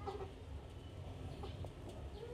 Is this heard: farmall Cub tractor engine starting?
no